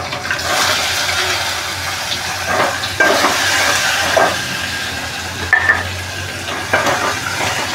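Onion frying in a pan, a steady hiss of sizzling oil with occasional clinks and stirring scrapes throughout.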